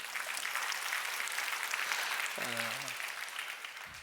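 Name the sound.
congregation applause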